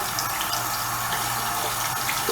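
Warm water runs steadily from a studio tap into a sink to rinse a calligraphy brush, a continuous close hiss and splash with no talk, faint music in the background.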